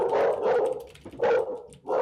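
A dog barks close by in a few loud, separate bursts with short gaps between them.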